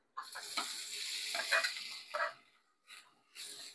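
Okra frying with egg in a pan in a home kitchen, loud close sizzling and crackling with stirring scrapes, fading to quieter bursts of sizzle toward the end.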